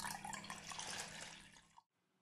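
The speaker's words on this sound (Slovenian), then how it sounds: "Uporabimo kokosovo vodo najprej in kar manjka, dodamo navadno mrzlo vodo." Plain cold water pours in a steady stream, topping up coconut water for grinding coconut, then cuts off abruptly into near silence.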